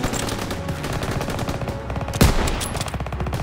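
Rapid automatic gunfire in the WWII shooter Call of Duty: WWII during the Operation Cobra mission, a loud continuous burst of closely spaced shots with one heavier blast partway through and no talking.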